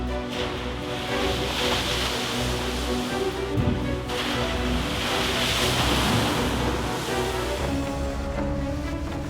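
Storm waves pound the Dawlish seafront in Devon at an extremely high tide in the 2014 storm, a continuous loud roar of surf and strong wind, with heavier surges swelling at intervals.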